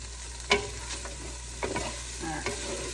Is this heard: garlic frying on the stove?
yes